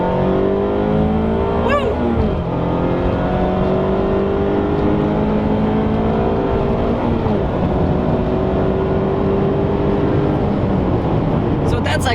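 A 2019 Mazda MX-5 with a manual gearbox revs up sharply during a downshift under braking to about 5,000 rpm, the engine note rising and falling through several gear changes, with rushing road and wind noise inside the car.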